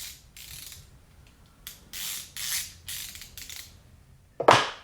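A Capri Tools 17.5-inch long flex head ratchet ratchets in several short bursts of rapid pawl clicking, close and fairly loud, ending in one sharper metallic snap.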